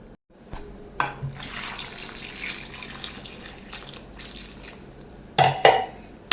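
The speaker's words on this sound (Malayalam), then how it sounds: "നമുക്ക് ആവശ്യത്തിന് വെള്ളം കൂടെ ചേർത്ത് കൊടുക്കാം" Water is poured into a metal pot of Kerala-style jackfruit seed and prawn curry with a continuous splashing stream, ending in a couple of clanks from the vessel.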